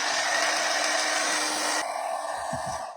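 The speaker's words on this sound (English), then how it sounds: "I'm going to hit it super quick with a blow dryer." A hair dryer blows steady, loud broadband air over freshly stenciled craft paint for holiday decor, running continuously and then shifting slightly in tone partway through before a few low thumps near the end.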